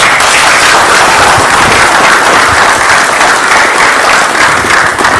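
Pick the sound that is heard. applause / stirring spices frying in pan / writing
applause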